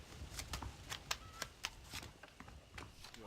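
A deck of playing cards is shuffled in the western video game Red Dead Redemption, quiet rapid riffling flicks and taps in uneven bursts close by, with no talking.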